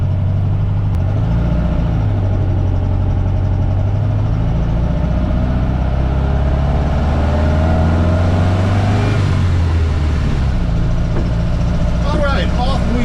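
A lowered 1956 Volkswagen Beetle drives along, its engine droning steadily with shifting pitch as it pulls away and changes speed, close and fairly loud throughout.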